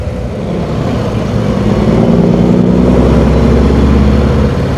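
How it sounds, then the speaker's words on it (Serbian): Big, noisy trucks roll past on Route 66 with a steady, loud low engine rumble and road drone that swells a little midway through, heard alone with no voices. "Kamioni veliki, dosta bučni"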